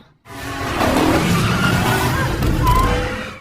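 Motorcycle in a film scene roaring in from silence, engine loud and close, then a sharp skid and tire squeal as it stops.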